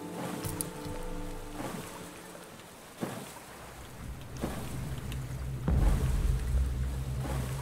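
Boat crossing open water between islands in the survival game Stranded Deep, a continuous rushing wash of water and hull noise with occasional splashy surges, growing louder toward the end, no talking.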